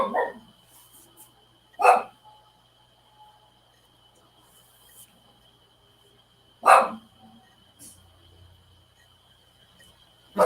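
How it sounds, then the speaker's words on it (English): A dog outdoors barks in a few separate sharp bursts spaced several seconds apart, fairly near, over a quiet background with a steady faint hum. "There's a dog walking by."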